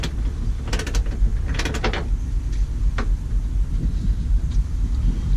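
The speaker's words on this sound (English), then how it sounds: "You are using the worst fucking socket in the world there, the worst wrench" A socket wrench worked on a Mitsubishi FTO during a rear battery install gives quick metallic ratcheting clicks in short bursts over a steady background hum.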